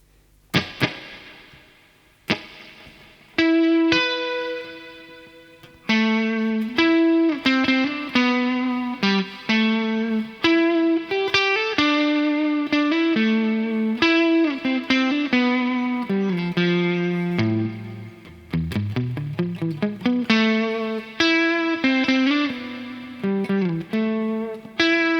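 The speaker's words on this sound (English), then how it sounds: "Let's turn up the effect level on this spring and see what we get." Clean guitar notes and chords played through a Neunaber Immerse Mk1 reverb pedal on its spring setting with the effect level raised, each note blooming into a splashy, lingering spring-style tail across a steady melodic passage.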